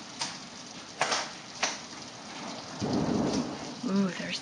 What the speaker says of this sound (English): Ooh, there's thunder too.